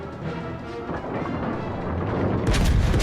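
Battleship main guns firing in the naval game World of Warships Legends, with a low rumbling ambience and then a loud, deep boom that bursts out near the end.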